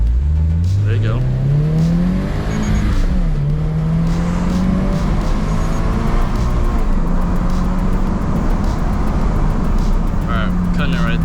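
A 2022 Subaru BRZ and a 2022 Subaru turbo WRX launch hard from a standstill, engines rising in pitch through the gears in a loud, continuous roar with people talking over it.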